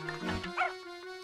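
Robot dog in the game Professor Layton and the Curious Village giving a short synthesized yip and bark, brief and fairly soft over a steady electronic tone.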